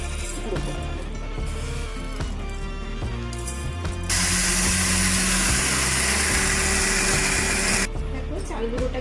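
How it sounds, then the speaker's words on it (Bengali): A kitchen mixer grinder pulverises fried Gobindobhog rice in a bowl, a loud steady motor whir with a harsher, denser grinding burst in the middle, running continuously with no pauses. "আর আমি এই মিক্সি বোলটাতে আগে একটু চিনি গুঁড়ো করে নিয়েছিলাম, তো এই বোলটার মধ্যেই আমি এই চালগুলোকে গুঁড়ো করে নেব"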